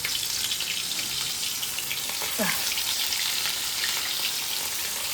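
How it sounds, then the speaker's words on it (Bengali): Steady broadband hiss of food frying in hot oil, continuous and fairly loud, with a brief higher-pitched sliding sound midway. "মাছটা ভাজা হোক,"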